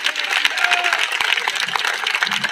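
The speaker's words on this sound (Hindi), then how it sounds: "तालियों में जोर कम है" Men in a crowd at an outdoor student protest clap together in a dense burst of applause, steady and fairly loud for a couple of seconds, with faint crowd murmur underneath.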